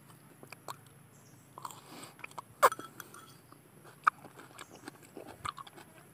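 Close crunchy bites and chewing of crunchy, spicy food, with sharp snaps scattered among softer mastication sounds over quiet room noise.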